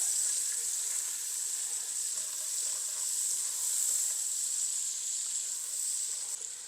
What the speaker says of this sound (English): now I'm going to add those onions. like I talked about, I'm going to let them get cooking for a few minutes